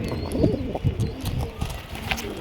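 Giribaz racing pigeons, a Chuachandan pair, coo in low repeated throaty pulses close by, with a voice talking over them.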